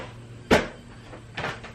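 A drawer full of books, notebooks and loose paper is opened with a sharp wooden knock, followed a moment later by a softer sliding bump, close by and quiet.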